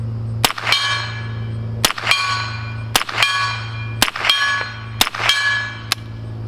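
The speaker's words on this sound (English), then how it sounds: "I like the ring of that silver gong" Several sharp .22 rifle shots from a Remington Nylon 66, each followed by a bright metallic ring from a struck silver steel gong, spaced about a second apart outdoors and fairly loud.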